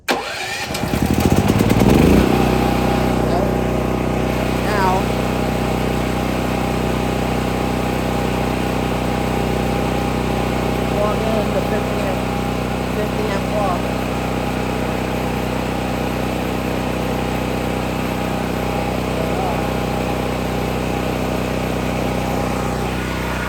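A Firman tri-fuel generator bought at Costco starts on gasoline after being choked, a brief cranking catch followed by a loud, steady mid-pitched engine drone that runs evenly for over twenty seconds, close by and with no talking.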